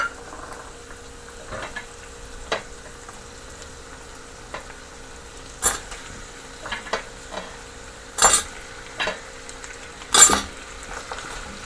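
Potatoes fry in a pan with cinnamon, clove and cardamom seed, a steady soft sizzle broken by occasional sharp scrapes and clinks of a utensil against the pan, with no talking.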